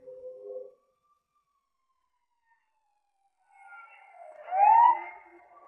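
An ambulance siren wails briefly in the distance, a short tone first, then after a quiet gap a rising and falling wail that swells and fades.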